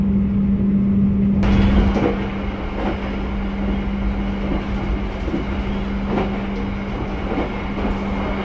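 The new Argo Lawu train departs Klaten station after a two-minute stop: a steady low hum and rumble with a sustained tone, rolling wheel noise and occasional clacks, heard close and continuous without talk.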